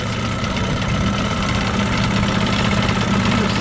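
A Kiekhaefer Mercury 200 outboard motor, running on a 22-to-1 fuel mix, runs steadily nearby with a continuous rough droning hum and no pauses, alone without talk.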